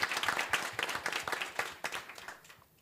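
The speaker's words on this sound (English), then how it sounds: "Let's give Jacques a round of applause" An audience applauds Jacques, crisp claps from a crowd close by that start strong and gradually thin out and fade to near silence.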